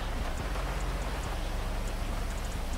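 Steady rain falls in GTA 5 as a dense, even hiss of drops that fills the whole stretch, loud and constant, with no voices over it.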